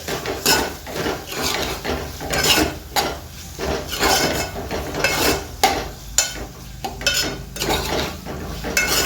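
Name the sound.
stirring tomato masala in a pan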